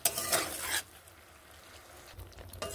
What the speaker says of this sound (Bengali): এগুলো এভাবে মিশিয়ে আমি নেড়ে নিচ্ছি।